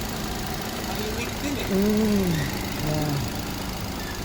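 A repaired Nissan Almera engine idles smoothly and steadily in the background while someone speaks briefly over it.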